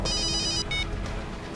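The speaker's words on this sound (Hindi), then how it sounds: "सर का फोन" A telephone rings nearby with a bright electronic ringtone in quick repeated trills, one short burst after another, loud and clear with no talking.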